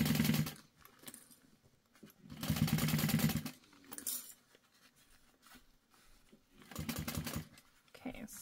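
A sewing machine stitches fabric for a tote bag at a quarter-inch seam, running in several bursts of rapid mechanical whirring separated by pauses with faint handling noise and quiet talk between runs.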